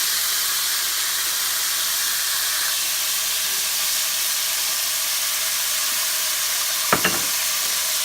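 Soy sauce and oyster sauce hitting a hot pan while cooking soy sauce fish, a continuous loud sizzle and steam hiss, with a couple of sharp utensil clicks near the end.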